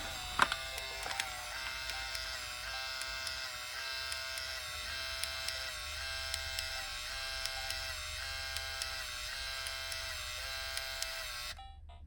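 A Nintendo Game Boy Printer receives a photo from a Game Boy, giving a steady electric buzz with faint rhythmic ticking that runs near and unbroken for about eleven seconds before stopping abruptly.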